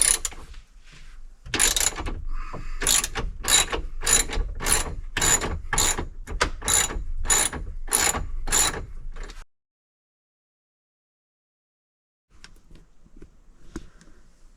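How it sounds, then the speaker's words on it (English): A ratchet with a 13mm deep socket on an extension loosens shift tube bolts on a 2000 Ford F350, giving about a dozen close, crisp clicking strokes in steady rhythm before stopping, then a faint brief return. "13mm deep socket on an extension is what you'll need to get this out"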